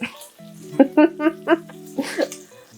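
Bacon sizzles and crackles steadily in a frying pan, with a few louder pops and spits, beneath a tonal humming voice or background music.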